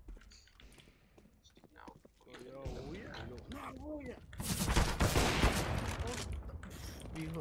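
Rapid bursts of gunfire in a shooter video game, loud and dense in the second half, with players talking over the shots.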